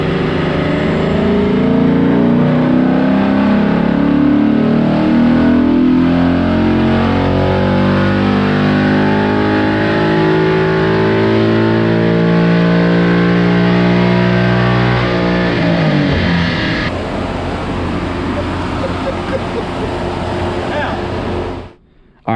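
A 2021 Ford Mustang Mach 1 with an ESS G3 supercharger revs on a dyno. The loud, distorted engine note sweeps upward through a long pull, then drops off abruptly and falls to a lower rumble.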